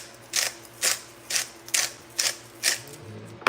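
A hand pepper grinder cracks pepper in about six short, evenly spaced crunching bursts, each a quick gritty grind, close and fairly loud with no talking.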